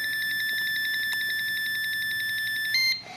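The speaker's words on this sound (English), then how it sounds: "when you hear the long beep" A long, steady electronic beep from a quadcopter holds a high tone for about three seconds, then cuts off abruptly.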